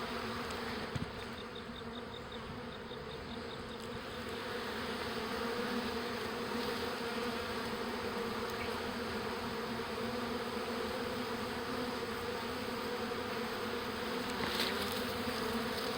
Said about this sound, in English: So you can tell these bees are shifting back and forth.